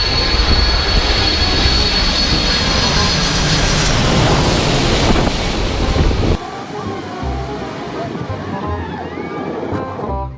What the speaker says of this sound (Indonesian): lihat teman-teman, di sini ada pesawat terbang.